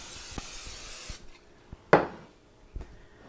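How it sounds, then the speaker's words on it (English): A short hiss of nonstick cooking spray coating a baking dish up front, followed by quiet clicks and a sharp knock. "I'm just going to lightly spray it with some nonstick spray."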